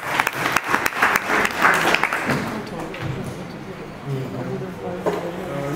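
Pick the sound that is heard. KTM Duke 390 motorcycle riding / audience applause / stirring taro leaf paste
audience applause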